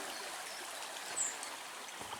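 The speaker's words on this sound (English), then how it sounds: "Let's walk alongside the river." The shallow River Meon flows through the Meon Valley near Soberton and Droxford, a faint, steady trickling babble of water with no voices.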